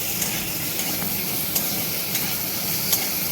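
Katla fish head fries with salt and turmeric in a pan, a loud, steady sizzle broken by occasional soft stirring scrapes.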